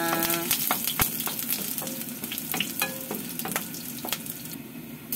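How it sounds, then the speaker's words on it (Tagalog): Garlic sautéing in a pan makes a loud, continuous crackling sizzle with sharp spitting pops scattered throughout, heard close and alone without any talking. "Ayan, maglalagay na tayo ng bawang. Yan ating igigisa."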